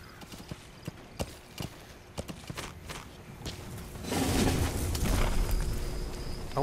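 Horse hooves clip-clop at a walking pace in Metal Gear Solid V, sparse at first, then a denser, louder rush of hoofbeats with a rumbling backdrop.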